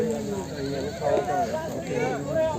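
Goats bleat repeatedly at a busy livestock market, several wavering, nasal calls overlapping close by against a murmur of background chatter.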